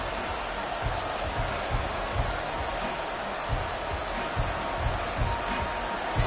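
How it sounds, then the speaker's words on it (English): A large football stadium crowd roars steadily in a big open venue, a dense continuous wash of cheering and shouting with small surges, no single voice standing out. "this crowd's going to get even louder"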